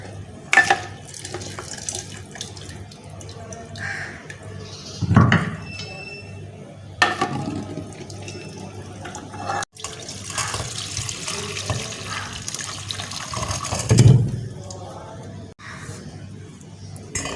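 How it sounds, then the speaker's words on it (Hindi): Beef paya broth (yakhni) poured from one cooking pot into another in a home kitchen, a sustained liquid splashing and trickling with occasional metal pot clinks, fairly close and steady, with no talk. "अब यखनी हम निकाल रहे हैं दूसरे बर्तन में।"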